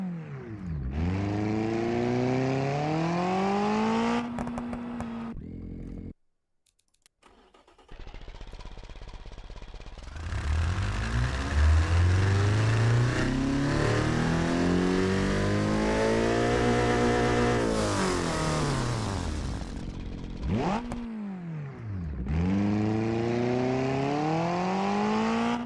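An engine revs in the BeamNG driving game, loud and close, climbing and falling in pitch over repeated sweeps. There is a brief silent gap, then a long rising howl and another rev cycle.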